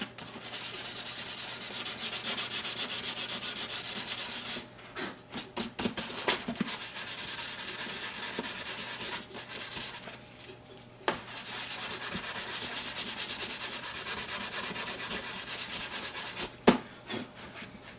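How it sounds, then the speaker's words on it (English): Close, continuous sanding of Fuller's Earth weathering off a Star Wars Sandtrooper helmet, a steady gritty rubbing broken by a few short pauses and knocks, with no talking. "I'm gonna just keep doing this, sanding the paint off, or not the paint, the Fuller's Earth off,"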